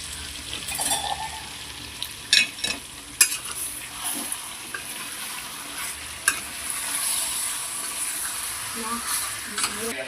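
Yogurt being stirred into chicken curry frying in a pan, with steady sizzling and repeated scraping stirs of a spoon, a few louder clinks standing out close by.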